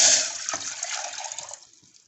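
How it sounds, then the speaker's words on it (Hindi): Water is poured into a pan on a stove: a bright, splashy rush that is loudest at the start and gradually tapers off as the pour ends. "अब मैं इसमें ये पानी डालूंगी"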